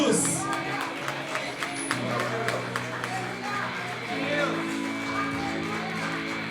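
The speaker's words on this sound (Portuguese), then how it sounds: "Louve o Senhor com as suas palmas." Churchgoers at a Sunday service clap in praise, with rhythmic hand claps over sustained music and crowd noise at moderate volume.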